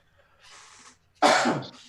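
A soft breathy intake is followed by a single sharp, loud sneeze up close.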